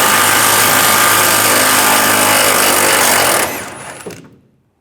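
A power tool drives a 21mm socket to remove a bumper bolt on a 2007-2013 Chevy Silverado 1500, a loud continuous whirring buzz that cuts off and spins down to silence, no voices.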